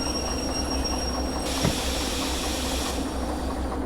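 A freight train rolls along in the Derail Valley video game, a steady close rumble of wagons with a hiss and a brief high wheel squeal partway through, no voices.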